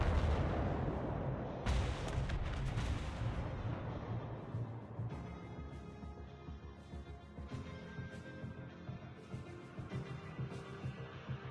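Heavy main-battery naval guns fire in a warship video game. A loud booming salvo rolls out, followed by further distant blasts and reverberating rumble.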